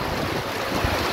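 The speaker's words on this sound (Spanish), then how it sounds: "Miren cómo corre el agua en la parte de allí." Rainwater runs and rushes across a ranch during a thunderstorm, a steady, loud broadband wash of water and wind noise with no voices.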